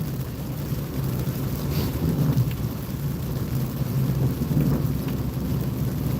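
Steady rain drums on a car while driving on a road, a continuous dense hiss with low rumbling road and engine noise underneath, no voices.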